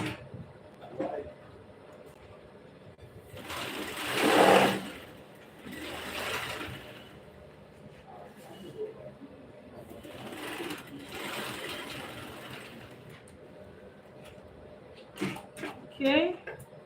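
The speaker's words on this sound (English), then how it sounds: "I will stitch on half inch." A sewing machine stitches a half-inch pocket seam in several short whirring runs separated by pauses, close and moderately loud, with a voice talking between the bursts.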